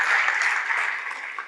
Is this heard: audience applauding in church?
yes